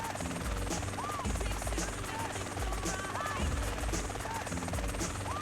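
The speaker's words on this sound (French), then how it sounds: "quand il conduit un hélicoptère" A helicopter flying in a video game, a rhythmic rotor chop with a buzzing engine drone, loud and constant, while someone talks over it.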